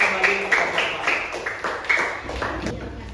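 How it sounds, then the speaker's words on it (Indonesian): Elementary school children clap in a classroom, with several sharp, rhythmic rounds of claps spaced about half a second apart and faint voices underneath. "tepuk tangan sekali lagi dan selamat kembali."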